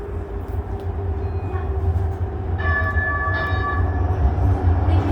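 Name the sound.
Siemens U2 light rail train running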